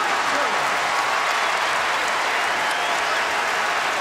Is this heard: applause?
yes